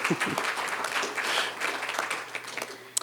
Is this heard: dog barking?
no